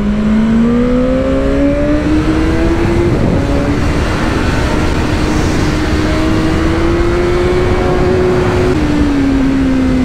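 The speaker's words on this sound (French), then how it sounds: "Le 4 cylindres, il me terrifie le 4 cylindres en ligne" The inline four-cylinder engine of a BMW S1000R motorcycle revs loud and close, its tone rising steadily through the revs before dropping sharply near the end, with no voices over it.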